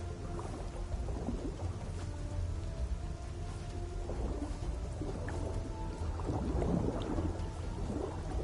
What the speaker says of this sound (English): Funny how you hear it raining underwater.